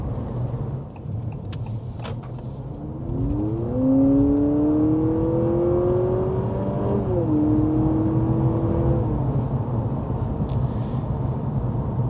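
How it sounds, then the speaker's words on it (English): A 2023 Honda Accord hybrid plays synthetic exhaust through its cabin speakers, a rising engine-like drone that climbs in pitch, dips, then holds steady over road rumble. "enhanced exhaust sound that's coming through the speakers"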